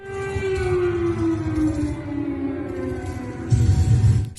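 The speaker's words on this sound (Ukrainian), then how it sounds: "а у Варшаві сирени та звуки вибухів" A steady, wailing air raid siren tone in Warsaw slowly falling in pitch, with a heavier rumbling explosion burst near the end.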